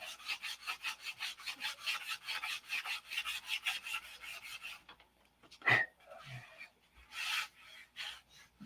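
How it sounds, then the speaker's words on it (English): Rhythmic back-and-forth sanding strokes rasp on a wooden model aircraft cowl up close, about a dozen even passes, then stop, followed by a few knocks and one more brief scrub. "Spend another couple of hours sanding on it."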